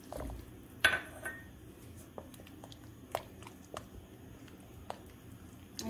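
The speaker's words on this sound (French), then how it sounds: "Je mélange bien le tout sur feu doux." A spoon stirs semolina in a pot over low heat, giving a sharp scrape and clink at first, then soft, sparse taps and knocks against the metal. It sounds quiet and close.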